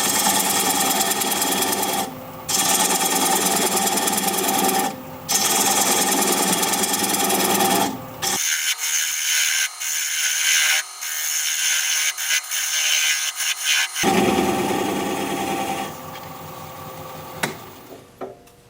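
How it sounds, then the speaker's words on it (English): A wood lathe spins black cherry at about 600 RPM while a 3/8 inch standard grind bowl gouge removes the tenon, giving a loud, continuous scraping hum broken by brief pauses and one longer stretch of a quieter, higher cutting whine. "Lathe is spinning at about 600 RPM and I'm removing the tenon."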